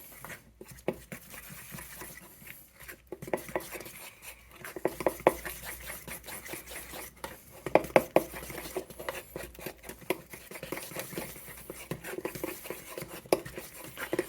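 A spoon stirs rice pudding in a bowl, with steady scraping and soft clinks against the sides in an uneven rhythm, close and moderately quiet, with a few sharper knocks along the way.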